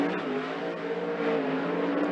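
A 410 sprint car circles Skagit Speedway during hot laps and qualifying, its loud, steady engine roar holding a sustained pitch with slight rises and falls throughout.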